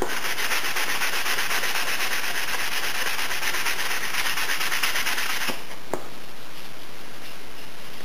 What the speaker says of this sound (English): We're really just trying to sand it down so we can get a nice, even, smooth grain.